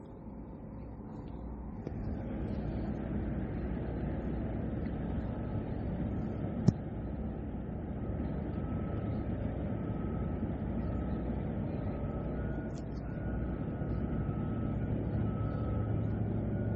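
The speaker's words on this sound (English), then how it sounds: "All the work trucks and all the cars driving by." Work trucks and cars pass along a Milwaukee street in a steady, continuous roar of traffic, with a faint beeping and one brief sharp click partway through.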